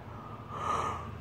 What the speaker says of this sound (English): that you guys didn't just yawn because I just yawned